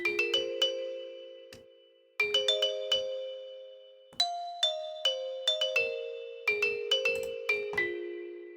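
An unprocessed vibraphone from the Air Instrument Expansion Pack, with no compression or EQ, plays clusters of struck mallet notes in short phrases, each bright attack ringing into a long clean decay between pauses.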